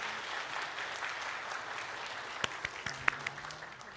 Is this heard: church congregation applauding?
yes